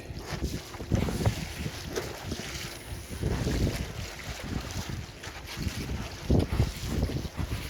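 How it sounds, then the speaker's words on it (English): Wind gusts buffet the microphone while wing sailing on open water, a rough, uneven roar with louder swells and faint water sounds beneath, and no talking. "I think there is some more wind coming."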